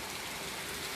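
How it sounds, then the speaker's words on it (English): Steady rain pouring down on a stormy day, a dense even hiss of drops on surfaces, close and constant throughout the short moment with no voices. "I'm just filming the rain"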